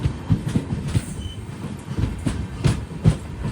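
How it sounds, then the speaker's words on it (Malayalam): An Amrit Bharat Express train rolls into Nileshwaram railway station, its wheels knocking in a steady clickety-clack rhythm over the rail joints, close and fairly loud, with a faint squeal above. "ട്രെയിൻ ഇതാ നീലേശ്വരം റെയിൽവേ സ്റ്റേഷനിലേക്ക് എത്തുകയാണ്."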